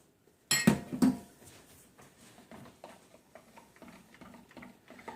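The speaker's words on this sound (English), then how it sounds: "And stirring again really good" Cold-process soap batter is stirred in a container, opening with a couple of loud knocks, then a series of light, irregular ticking taps and scrapes of the utensil, quiet and close.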